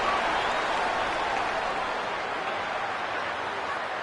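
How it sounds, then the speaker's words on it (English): A stadium crowd at a college football game in a video game, a steady broad roar of distant cheering and chatter, even and unbroken throughout, under a commentator's talk. "there's all this crowd noise"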